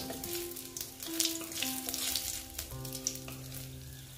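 Whole spices frying in hot oil for a tempering before jackfruit curry, giving a steady soft sizzle with crackles and a few light clinks, close and moderately quiet throughout.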